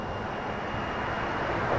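A Jazz Embraer 175 airliner at Toronto Pearson airport gives off a steady, broad roar of jet engine noise, continuous and fairly loud throughout with no talk.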